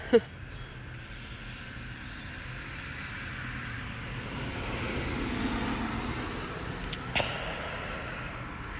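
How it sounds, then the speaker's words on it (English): Busy highway traffic heard from beside the road, a steady wash of passing vehicles with a swell of a closer one midway and a few faint squeals, no talk. "you can hear some traffic. I live right on the edge of a busy highway."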